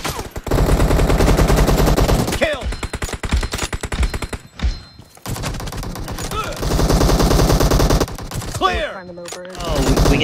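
Rapid automatic gunfire rattles in PUBG Mobile team deathmatch, bursts of shots rolling loud and close with brief pauses between volleys, while a player's voice breaks in now and then.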